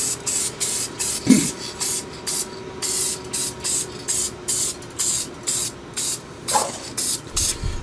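Bursts of hissing spray from an airbrush painting a 3D-printed fish, on and off in a steady rhythm of short pulses, close up, with a couple of faint knocks.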